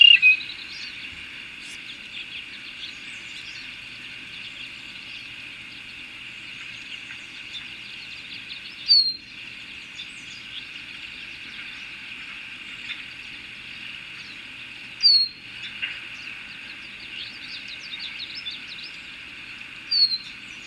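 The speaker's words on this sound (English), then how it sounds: "bird I was going to show you is the red-winged blackbird" Red-winged blackbirds call over a steady high insect-like buzzing background, with a few sharp, high squeaky notes standing out at intervals, moderately far.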